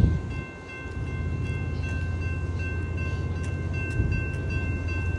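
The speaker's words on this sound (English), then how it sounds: "Six train cars on there, six Amtrak ones." A six-car Amtrak train passes close by, a loud, continuous low rumble with steady tonal hum over the rolling wheels and no speech.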